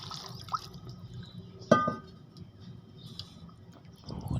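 Ground phalsa fruit juice water is poured into a rice pot, giving soft liquid splashes and drips with a brief louder splash near the middle, close and fairly quiet.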